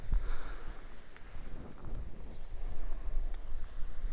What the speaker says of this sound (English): There's that strong gust I was telling you about.